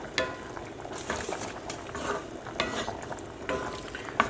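Shrimp and chorizo spaghetti stirred in a frying pan, close scraping and clinking of a utensil against the pan over a faint sizzle, in irregular strokes.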